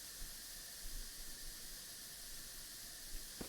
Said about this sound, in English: Yeah, they shouldn't sizzle. Sizzling is kind of fucking annoying.